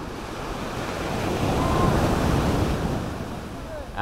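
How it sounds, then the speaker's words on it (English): Strong ocean waves wash in at Hyams Beach on Jervis Bay, a loud, continuous roar of surf that swells in the middle, with wind buffeting the microphone. "And the waves are too strong."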